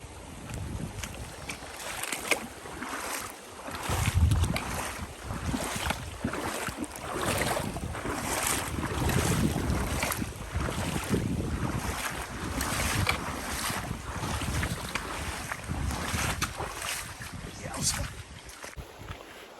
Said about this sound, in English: Fording the first river